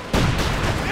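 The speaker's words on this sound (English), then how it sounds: "There we go, rockets flying." Rockets launch in a Company of Heroes 2 battle, a sudden loud whooshing barrage with booming blasts that kicks in after a moment and continues densely for the rest of the brief moment.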